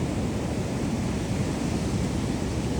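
Large sea waves crash in a steady, roaring wash of surf that fills the whole stretch at an even level, with no voices.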